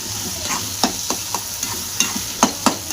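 Baingan bharta (mashed roasted eggplant with onion) being mixed in a pan, a series of quick spoon taps and scrapes against the metal in an uneven rhythm over a light sizzle, close and fairly loud, no voices.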